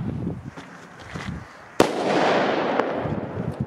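A single sharp Hestia firecracker bang cracks out near the middle on New Year's Eve, followed by a lingering hiss and crackle as it echoes away.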